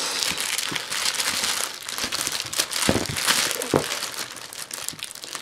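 Packing tape being peeled and pulled off an HP Pavilion 15 notebook laptop, a continuous crinkly, crackling rip with a few sharper bursts over about five seconds, close up and fairly loud, no talking.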